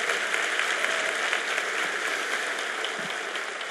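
A church conference audience applauds steadily and continuously, a dense wash of clapping that fades slightly toward the end.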